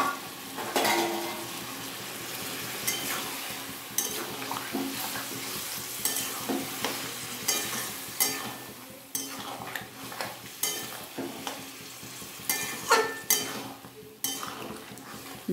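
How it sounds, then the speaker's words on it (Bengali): Vegetables simmer in milk in a pan while a spoon stirs and scrapes, giving irregular clinks and knocks against the metal over a soft bubbling hiss, close and unhurried. "ভালো মতো দুধটা দিয়ে সমস্ত আনাজগুলোকে এইভাবে নাড়িয়ে ছাড়িয়ে দিলাম"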